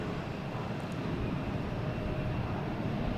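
JetBlue Airbus A321 airliner inbound from Las Vegas, flight 978, near Boston Logan, producing a steady broadband engine roar that holds at an even level throughout, with no voices present.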